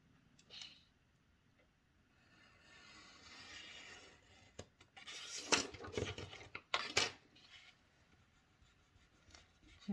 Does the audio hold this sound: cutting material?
yes